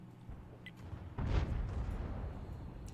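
A tank shell explodes on the ground in a tank video game, a single muffled boom rising midway from a quiet rumbling backdrop and slowly fading.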